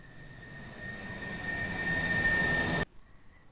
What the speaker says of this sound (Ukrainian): Літак потихеньку піднімається високо-високо вгору.